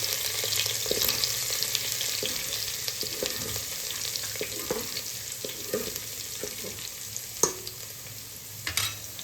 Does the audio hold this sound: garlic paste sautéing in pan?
yes